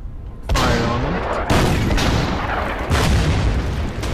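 Video game artillery fires in loud, rumbling booms, one roughly every second and a half, each blast followed by a long noisy roar that stays heavy and close throughout.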